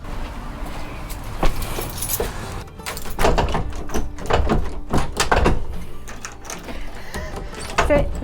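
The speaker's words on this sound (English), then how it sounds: "Keys in the back of the door." Keys jangle and clatter at the back of a door in a series of sharp metallic rattles and knocks, close and fairly loud, with handling noises between them.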